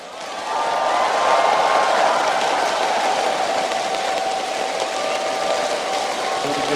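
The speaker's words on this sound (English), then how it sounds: "give them a cheer" Esports crowd at the League of Legends Worlds 2012 final cheering for Azubu Frost, a sustained roar of many voices that swells quickly and holds steady.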